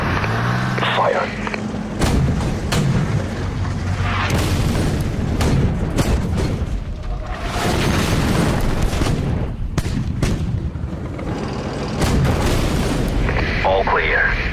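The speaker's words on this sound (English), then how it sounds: "Artillery moving into position." Booming artillery fire and explosions in the Armored Warfare tank video game, a dense barrage of heavy blasts with some sharper bangs under constant battle noise, with radio-style voices.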